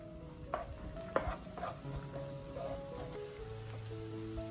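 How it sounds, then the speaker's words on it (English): Chopped shallots, minced garlic and lemongrass stirred in a pan for Bun Bo Hue, a soft background sizzle with several distinct scraping and clinking strokes, fairly quiet and close. "Stir the ingredients together."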